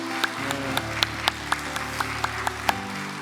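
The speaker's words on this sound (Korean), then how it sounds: "우리 박수 한번 해주시기 바랍니다." Applause from a Korean church congregation at a Sunday worship service congratulating a newly ordained elder pastor, sparse steady claps over a low hum of room tone.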